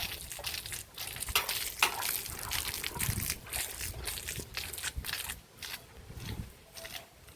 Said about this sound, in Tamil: ஒரு கூட தண்ணி தான் எடுத்து வாசலில் ஊற்றுறோம் வெயிலுக்கு